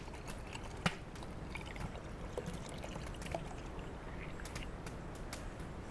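Water trickles and pours into a hollow bull kelp float, a faint steady splashing with a couple of small drips and knocks, close by and without talk.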